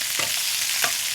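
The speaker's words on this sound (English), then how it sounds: "The other fish is still cooking. We're going to get a nice just a little bit of a sear on these." Mahi mahi fillets searing in oil and butter in a pan: a continuous broad sizzle with two soft scraping bumps of a utensil moving through the pan.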